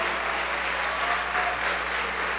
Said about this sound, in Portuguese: Pode aplaudir a Jesus, gente.